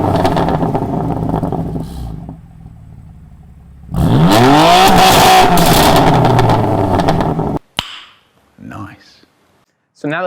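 A BMW F80 M3 CS engine sustains a loud, close rev that climbs and falls over several seconds, followed by sharp bursts and short blips. Talk runs underneath at the start.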